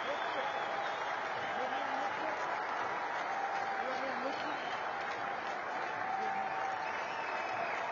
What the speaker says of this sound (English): They all applaud.